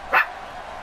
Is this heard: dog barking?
yes